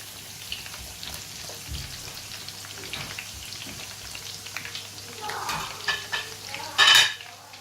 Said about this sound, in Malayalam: ഇനി ഇതേ എണ്ണയിൽ നമുക്ക് അതിൻ്റെ ഗാർണിഷിങ്ങിന് വേണ്ടിയിട്ട് കുറച്ച് സവാള ഫ്രൈ ചെയ്തെടുക്കാം